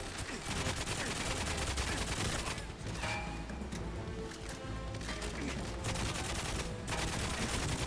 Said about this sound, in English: I love the amount of recoil there is when shooting a fully automatic.